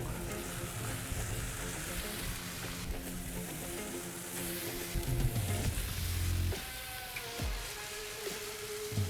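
Sauced pork belly searing inside a Pit Barrel Cooker, a steady close hiss and crackle of fat that swells briefly as more pieces go on.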